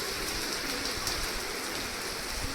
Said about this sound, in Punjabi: ਮੀਂਹ ਦੀ ਕਣੀ ਵੀ ਚੱਲਦੀ ਆ